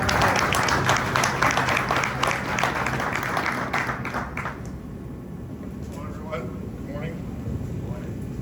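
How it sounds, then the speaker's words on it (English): Applause from a large crowd at a groundbreaking event for stadium improvements, with dense clapping loud for the first few seconds, then thinning out and fading into scattered claps and murmuring. "Please give a big round of applause for Mr. Mike Elias."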